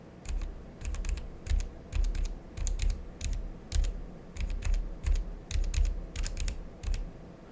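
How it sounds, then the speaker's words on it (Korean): Rapid typing on a Logitech G913 wireless gaming keyboard, close and clear, with bursts of key clacks in a steady rhythm and no talking. "이때 하고자 하는 키를 입력하고"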